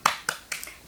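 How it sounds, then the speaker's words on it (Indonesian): Sharp, bright hand claps in an Indonesian primary school lesson chant, four crisp claps spaced evenly in a quick rhythmic pattern, close and clear with no talking over them. "Tepuk semangat."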